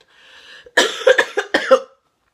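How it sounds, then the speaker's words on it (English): A woman has a short coughing fit of about four harsh, close coughs in quick succession, after a soft breathy lead-in. "I'm having a coughing attack."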